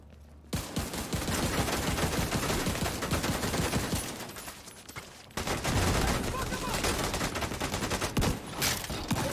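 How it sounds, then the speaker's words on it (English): Rapid automatic gunfire in a video game as a whole magazine is emptied into a heavily armoured juggernaut enemy: dense continuous bursts, loud and close, with a brief break before firing resumes, voices faintly underneath. "I'm just trying to mag dump him right now"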